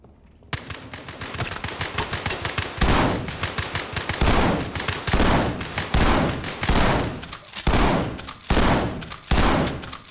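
Loud automatic gunfire in the tactical shooter video game Ready or Not, rapid bursts of shots with short pauses between them, sustained through the clip with no talking.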